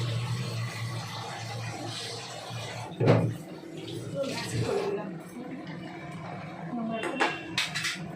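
A spoon scrapes and clinks in a cooking pot while a curry is stirred, soft metallic taps with one sharper knock, under a steady background hum and talk.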